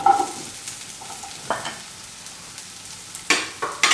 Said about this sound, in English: Put in the capsicum